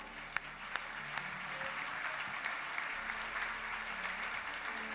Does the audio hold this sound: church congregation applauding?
yes